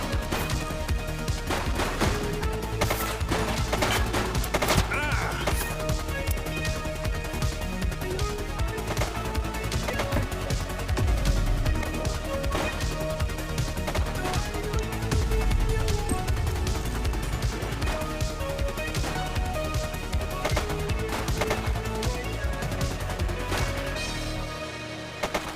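Rapid video game gunfire during a police shootout, dense bursts of shots and crashes over a constant loud game soundtrack, sustained throughout with no clear speech.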